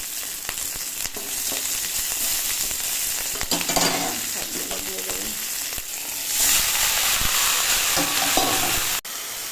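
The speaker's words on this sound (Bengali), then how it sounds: "এর সঙ্গে এমনি ভাজা হয়ে যাবে।" Dried red and green chillies fry in hot oil in a pan, giving a steady, close, broadband sizzle with scraping stirs that swells louder in the last few seconds; a voice speaks briefly over it.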